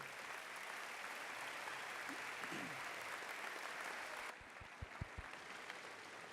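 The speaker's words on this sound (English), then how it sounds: "would you give yourselves a round of applause for being a great crowd today" Graduation commencement audience applauding steadily, a dense continuous wash of clapping that carries on evenly and then thins slightly, with a few low thumps near the end.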